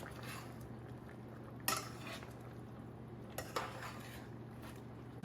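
A spoon stirs avial, a vegetable curry with ground coconut, in a metal pot. It gives soft, wet scraping with two sharp clanks against the rim, close up and quiet, over a low steady hum.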